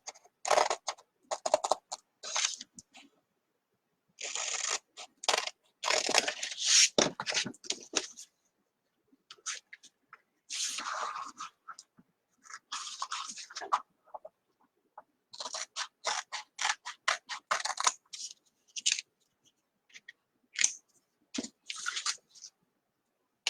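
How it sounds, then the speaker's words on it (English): Scissors cut apart a Chalk Couture transfer sheet in repeated close snips and crisp plastic rustles, in short bursts separated by silent pauses. "we're just going to cut it apart"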